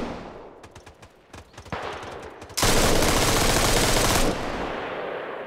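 Arma Reforger gunfire from a long-barrelled gun: a run of separate sharp shots, then a loud sustained automatic burst lasting about two seconds before cutting off.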